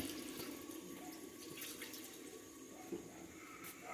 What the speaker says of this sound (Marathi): तर आता त्याच्यात थोडंफार आपण पाणी टाकू